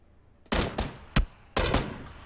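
Gunfire in the video game PlayerUnknown's Battlegrounds: three loud, sharp shots spaced about half a second apart, close and dry over a quiet background, with no talking.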